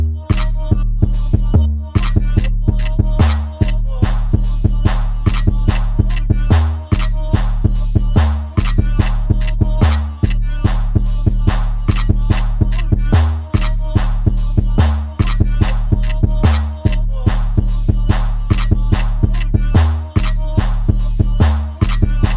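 A dark Jersey drill beat plays with a backwards vocal effect from a factory preset, built on a steady looping pattern of heavy bass and drum hits repeating evenly throughout, with no talking.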